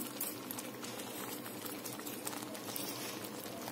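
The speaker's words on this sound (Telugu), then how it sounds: "దీన్ని ఒక 2 నిమిషాలు మనం ఉడకనిద్దాం." Lentil dal with spinach, turmeric, salt and chili simmering in a pot, a soft continuous bubbling and popping, faint and close, with no voices.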